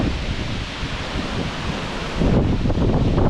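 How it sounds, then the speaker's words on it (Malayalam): Strong wind sweeps through a dense forest in a continuous roar, with rustling foliage and buffeting gusts that swell louder toward the end. "നല്ല കാറ്റ് വീശിക്കൊണ്ടിരിക്കുക കേട്ടോ"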